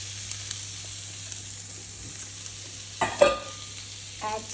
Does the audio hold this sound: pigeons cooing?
no